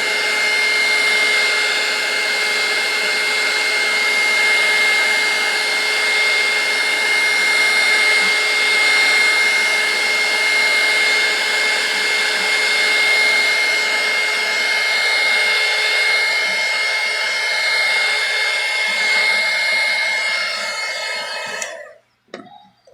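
A heat gun or hair dryer blows steadily and loudly, warming the back of a Samsung Galaxy On5 phone to loosen the screen; the even whooshing hum with a faint whine runs nearly unbroken before cutting off abruptly at the end.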